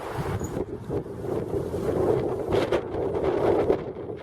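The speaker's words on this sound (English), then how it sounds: "Oh, wind!" Strong wind gusts across an outdoor allotment garden, buffeting the microphone in a continuous loud roar that swells and eases.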